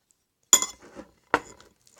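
A spoon stirs a bowl of homemade cream slime, giving two separate clinking scrapes of the metal against the container, each followed by a short soft rustle in an otherwise quiet room.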